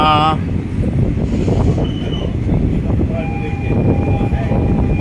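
A train rumbles loudly and continuously at Sakoti Tanda railway station between Meerut and Muzaffarnagar, with heavy low-frequency roar and wind buffeting, a brief tonal whine near the start and faint squeals later.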